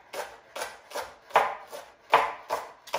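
A knife chops food finely on a cutting board for a turkey and cranberry meatloaf, with crisp, evenly spaced thuds arriving about twice a second, close and clear with no talking.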